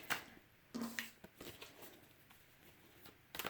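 A deck of tarot cards being quickly shuffled, with several short riffling bursts and soft card flicks, close and fairly quiet, no talking.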